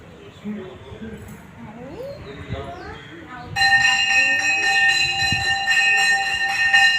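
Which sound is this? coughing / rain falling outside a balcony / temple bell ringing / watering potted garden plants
temple bell ringing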